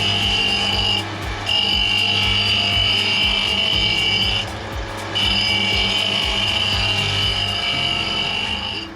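A reel grinder spin-grinding Toro Greensmaster 3250D mower reels, giving a loud continuous high whirring grind with a steady motor hum beneath, briefly dropping out twice before resuming, no talk.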